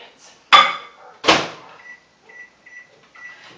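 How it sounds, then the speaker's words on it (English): A microwave oven softening butter: a sharp clunk and a second thud from the door and controls, then a faint, intermittent electronic hum or tone as it runs, with no talking. "pop it in the microwave for 30 seconds"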